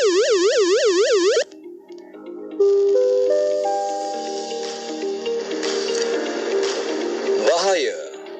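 Wailing flood danger siren rising and falling in a steady loop for about a second and a half, loud and alone, before it cuts off and a presenter speaks over a musical bed.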